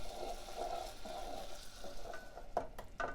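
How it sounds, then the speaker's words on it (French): Quiet, steady bubbling and soft sizzling from a florentine mixture simmering in a pan over medium heat, with a few small pops near the end. "Donc là ça frémit, on voit bien sur les côtés"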